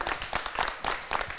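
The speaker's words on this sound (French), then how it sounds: "Je vous demande d'applaudir Stéphane Ducrot." Scattered applause from a small audience at a pastry competition greets a guest pastry chef judge, brief and faint with distinct individual claps.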